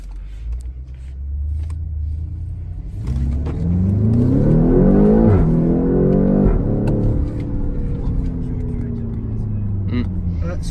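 A BMW X6 M engine revving with its gearbox in sport mode, a loud close rumble that climbs steeply in pitch, peaks around the middle, then drops back to a deep idle burble.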